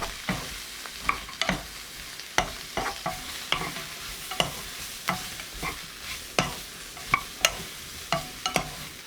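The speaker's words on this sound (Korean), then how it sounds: "양파, 당근 넣어 20초 볶아요. 포고버섯 넣어 1분 30초 볶아줍니다." Onion, carrot and oyster mushrooms stir-frying in a pan, with a steady sizzle broken by frequent sharp scrapes and clacks of the utensil against the pan, close and fairly loud, no talking.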